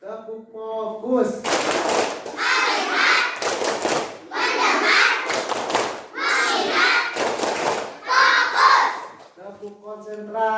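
A classroom of children performs a rhythmic clap chant, bursts of loud group clapping alternating with shouted chanting, with an adult voice at the start and end.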